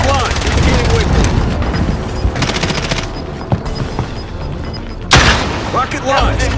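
Rapid gunfire and booming explosions crowd a Call of Duty Modern Warfare battle: dense bursts of automatic fire up front, scattered shots, then a heavy blast near the end, loud and chaotic, with a voice calling out among the shooting.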